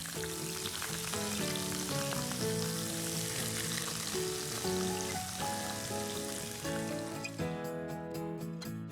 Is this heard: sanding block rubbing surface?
no